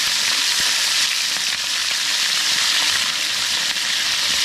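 Fish frying in a pan outdoors during a survival cooking session, a loud, steady crackling sizzle that fills the whole stretch with no talk over it.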